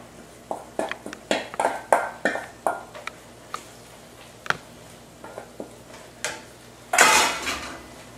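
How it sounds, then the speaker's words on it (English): A spoon stirring butter-sautéed leeks into a meat mixture in a metal pan, a string of sharp clanks and scrapes in bursts, ending in a louder, fuller scrape. "we'll just stir this around a bit"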